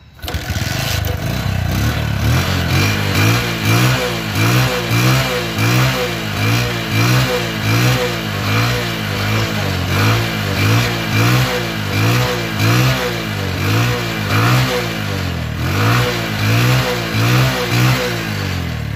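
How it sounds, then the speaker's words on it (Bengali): A used Bajaj CT 100 motorcycle engine runs loud and close, revving repeatedly in a regular rise-and-fall pattern, each throttle blip climbing then dropping back to a sputtering idle. "তো বন্ধুরা দেখুন বাইকটির সাউন্ড।"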